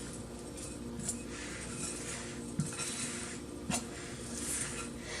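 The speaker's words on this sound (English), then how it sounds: "Just keep on stirring it." Baking powder biscuit dough is stirred in a bowl, giving faint, steady scraping and occasional soft clinks of a utensil against the bowl, quiet and close with no talking.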